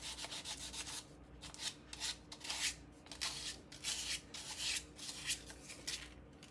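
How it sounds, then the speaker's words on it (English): Fine 220-grit sandpaper rubs over wood filler on a 3D-printed Star Destroyer bridge model in steady back-and-forth strokes. The scratchy sanding is close and moderately quiet, with a faint low hum beneath. "220 grit fine sandpaper. And we're just going to sand down the wood filler"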